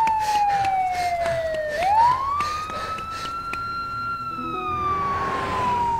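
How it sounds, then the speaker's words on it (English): A police car siren wails close by in The Walking Dead: 400 Days video game, its tone sweeping down then rising and holding, with road and engine noise underneath. "that was Lee in the police car"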